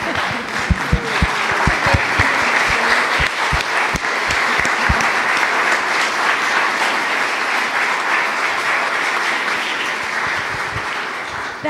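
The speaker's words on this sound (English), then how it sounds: "Let's give them a standing ovation tonight." A concert audience gives a standing ovation, with loud, dense applause running continuously and a few distinct near claps standing out early on.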